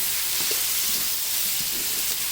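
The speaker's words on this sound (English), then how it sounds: "I'm just going to go ahead and add the lentils, stir them around in the flavor." Lentils stirred through a hot, seasoned pan for a stew give off a steady, close sizzle with soft scraping from the stirring, and nobody talks.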